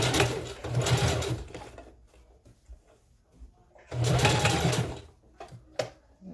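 A sewing machine stitching hair for a ponytail runs in two loud, rapid whirring bursts of about two seconds each, separated by a quieter pause with faint handling clicks.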